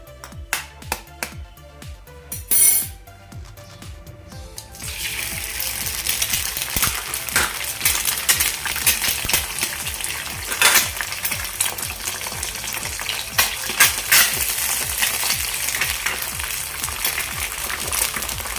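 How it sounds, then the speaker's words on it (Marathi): Two eggs crack into a small pan with a spoonful of oil, a few sharp taps and cracks first, then a loud, steady crackling sizzle of frying that keeps going. "पॅनमध्ये मी आता अंडी घालते दोन फोडून"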